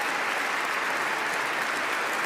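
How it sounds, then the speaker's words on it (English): Sustained applause from a large crowd at the Nobel Peace Prize ceremony in Oslo City Hall, dense and even clapping that fills a big room without pause. "Ovation and thunderous applause from the assembled guests here in Oslo City Hall."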